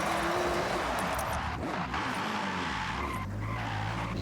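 Tires screech in a long, continuous skid as a hard-to-control car slides in the Forza Horizon 6 racing game, loud and close with engine roar underneath throughout.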